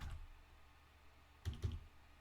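Keys on a computer keyboard are struck faintly while a command is typed: one soft tap at the start, then a short quick cluster of clicks near the end.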